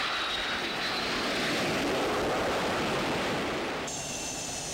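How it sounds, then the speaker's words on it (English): An FA-18 Hornet strike fighter jet flown by the Marine Corps gives off a loud, steady broadband roar that holds for several seconds and eases off slightly toward the end, with no voices. "The Corps fields high-performance jet aircraft, such as the FA-18 Hornet Strike Fighter."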